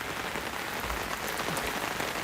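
Steady rain falls hard and evenly, a dense close hiss of drops on surfaces with no pauses, loud and continuous throughout.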